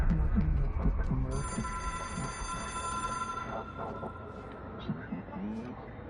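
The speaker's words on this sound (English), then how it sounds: "Pick up the phone. It is a phone." A telephone rings in the video game Control, its bright, sustained electronic ringing tones running for several seconds while someone talks over low background sound.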